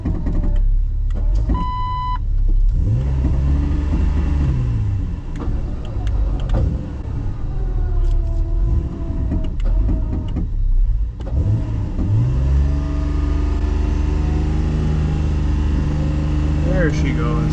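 A car stuck in snow revs its engine in rising and falling surges, wheels straining, while several people talk and call out over the noise.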